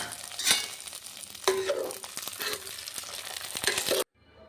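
Fried peanuts tipped into a pot of bisibelebath, a Karnataka rice-and-lentil dish, giving a few scattered clattering drops and a soft sizzle and stir, fairly close, with no voices.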